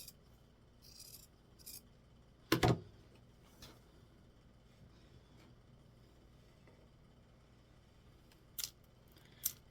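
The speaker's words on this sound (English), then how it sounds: "I'm going to take my Guggenheim scissors and I'm going to cut off the excess seam allowance under the arm so that it's not bulky" Guggenheim scissors snip off excess fabric seam allowance under the arm of a small dress in a quiet room, heard as one crisp, close cutting burst, a few faint snips before it and two more near the end.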